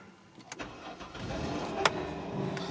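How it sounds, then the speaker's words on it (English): A 2006 Dodge Caravan starting up, with a short cranking burst followed by the engine catching into a steady idle, heard close inside the car with a couple of sharp clicks. "So I'm gonna start the car."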